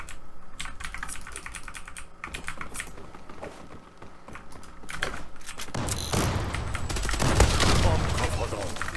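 Computer keyboard typing and mouse clicking during a session of the shooter game Zula, a steady run of close clicks and key taps with game gunfire swelling up underneath toward the end.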